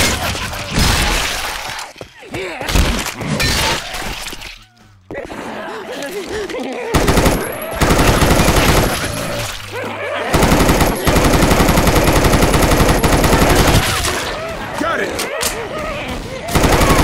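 Heavy gunfire fills a Left 4 Dead 2 zombie firefight: long rattling automatic bursts and rapid shots, loud and close, broken by short pauses and crashing, shattering impacts.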